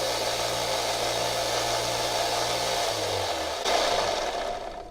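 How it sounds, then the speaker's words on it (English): A belt grinder runs steadily while knife bevels are ground on a friction folder blade, giving a loud continuous abrasive whir that holds for several seconds and shifts slightly near the end. "Now we're going to go ahead and grind those bevels."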